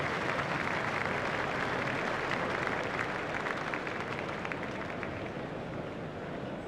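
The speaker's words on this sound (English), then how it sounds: "Crowd are giving him an excellent round of applause." Continuous applause from the stadium crowd in the Cricket 2004 video game, a steady broadband patter of many hands that holds evenly for several seconds and fades slightly at the end.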